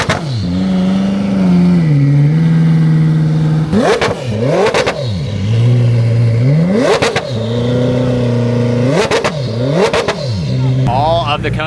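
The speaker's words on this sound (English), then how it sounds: "Jesko giving some revs, that sounds ridiculous." A Koenigsegg Jesko hypercar engine blipped repeatedly, loud rising and falling revs in several sharp bursts over a steady droning idle, with a voice talking over it.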